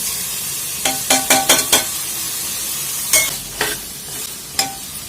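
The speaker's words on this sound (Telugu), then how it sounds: "బాగా ఫ్రై చేయాలి" Goat leg pieces frying in a pan with salt and turmeric, heard as a soft steady sizzle broken by a run of quick scraping stirs early on and a few more later, close and fairly quiet with no talking.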